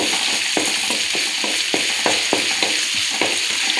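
Onions frying in a pan give a loud, constant hiss while a spoon stirs them in steady, repeated scrapes roughly every half second, up close and with no voices.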